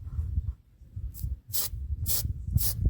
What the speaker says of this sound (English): So when you spray this spray glue, these nozzles tend to have a mind of their own.